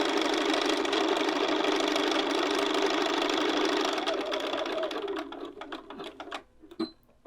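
A sewing machine runs steadily while stitching a keyhole neckline, a fast, even whirring that slows to short stop-start bursts and a final clunk as the seam ends.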